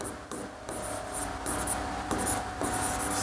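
Pen writing by hand on paper during a class 9 triangles maths lesson gives continuous scratchy strokes in short bursts, close and fairly loud, with brief pauses between words.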